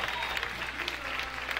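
Audience applause at a master's recital, a steady wash of many hands clapping from a crowd, continuous and fairly full, with voices faintly mixed in.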